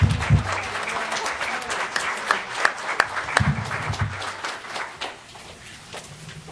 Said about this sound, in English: So we feel like that deserves a round of applause.